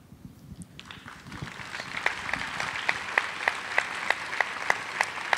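An audience at a gathering in the Grande Halle de la Villette in Paris begins clapping after a short quiet lead-in. The applause swells into full, close clapping with regular sharp peaks.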